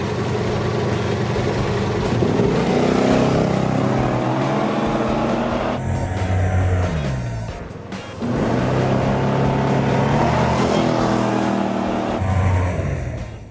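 Two maxi-scooters, a Yamaha TMax 530 LuxMax and a BMW C650 S, race from a standing start, their engines droning loud and steady with rising pitch sweeps as they accelerate, a brief dip midway, then surging again.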